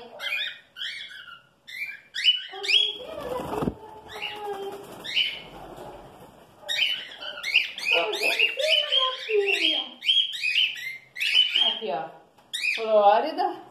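Cockatiel chicks give repeated high, raspy chirps and begging calls up close, in irregular bursts, with a person speaking intermittently between them.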